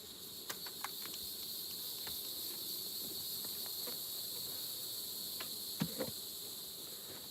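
Honey bees buzz around an open, agitated hive, a constant dense hum with scattered short clicks and bumps from the hive being worked, no voices.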